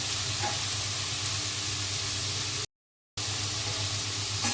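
Drumstick pods fry in an onion, chilli and tomato masala with a dense, even sizzle close up, broken by a brief silent gap before the steady crackle resumes.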